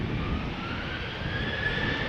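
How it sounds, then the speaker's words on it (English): A KLM jet airliner on the runway at Amsterdam Schiphol, bound for Bergen, gives off a steady broad engine roar with a faint rising whine, continuous and fairly distant. "KLM flight 1167 is turning onto the runway, ready to go to Bergen in Norway"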